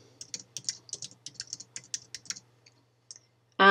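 Rapid keystrokes on a computer keyboard, around twenty close, crisp clicks in quick bursts over two and a half seconds, then a couple of isolated taps and a sudden louder noise at the very end.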